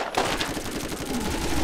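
Gunfire in Borderlands' Zombie Island of Dr. Ned, a brief loud rapid burst of automatic shots packed tightly together against a dense, noisy background.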